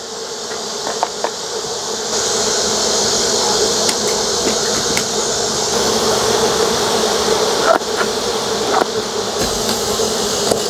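A dense, steady swarm of agitated bees in a gourd buzzing loudly and close, an angry drone with occasional sharper knocks and bumps throughout.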